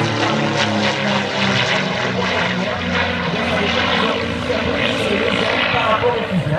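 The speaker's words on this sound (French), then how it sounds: "C'est un avion que l'on appelle de construction amateur." An amateur-built propeller airplane flies overhead with a loud, steady engine-and-propeller drone that holds close and strong throughout, its pitch wavering slightly as it passes.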